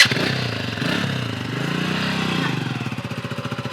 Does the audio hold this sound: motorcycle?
yes